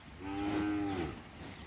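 A cow on a farm lets out a single drawn-out moo, fairly close, over a faint background hiss.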